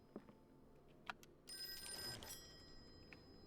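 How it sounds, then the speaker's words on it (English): A telephone rings faintly in the Call of Cthulhu video game, one short burst of bell-like ringing in the middle of an otherwise quiet room with soft background noise. "Okay, I hear the phone, so let's go answer the phone."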